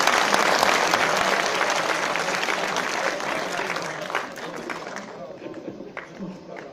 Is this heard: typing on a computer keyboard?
no